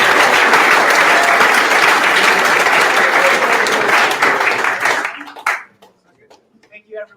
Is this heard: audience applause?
yes